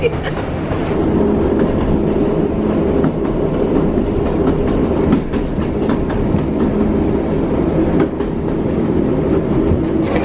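A train on the St Ives branch line rumbles steadily past close by, wheels clacking over the rails beneath a sustained mechanical drone, loud and continuous.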